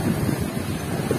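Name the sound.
wind blowing at the seaside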